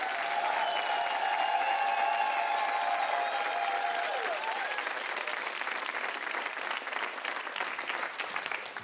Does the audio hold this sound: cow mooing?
no